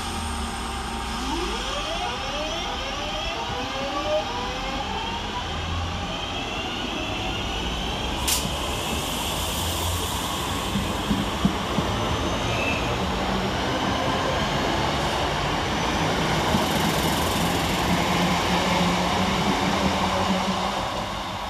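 A pair of West Midlands Railway class 323 electric units pulls out of Shenstone station with a rising, stepped traction whine over a growing rumble of wheels on rail, loud and sustained throughout.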